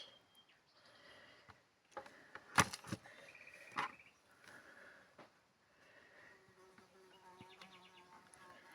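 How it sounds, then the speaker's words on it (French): A small fly buzzes faintly and intermittently in a quiet room where fabric and lace scraps are being handled, with a few sharper crackles and handling noises mixed in. "La mouche."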